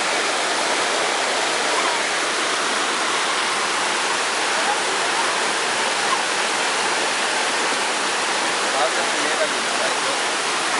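Waterfall in Paraty, Brazil, a loud, dense and unbroken rush of falling water filling the whole clip at close range without pause.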